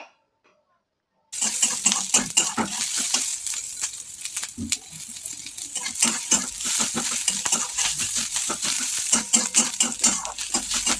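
Onions fry and sizzle in hot oil in a pan for a moment of Mung dal and soya chunk curry cooking, a steady close crackling hiss with occasional stirring scrapes, starting after a short silence.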